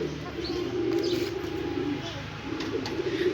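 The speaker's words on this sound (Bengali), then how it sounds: "এই যে কবুতর আছে অনেকগুলো" Pigeons coo softly and steadily in a pigeon house on a small farm, a low murmuring chorus with faint chirps and background noise, moderately close.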